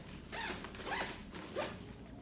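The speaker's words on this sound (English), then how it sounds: "once you close this zipper," A double zipper on a fabric packing cube is drawn shut in a few quick, close, faint rasping pulls.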